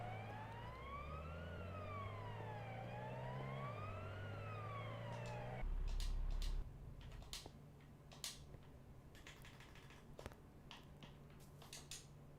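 A police car siren in the Minecraft video game wails in loud, steady rising and falling sweeps for about five seconds, then cuts off, leaving scattered clicks and small game sounds.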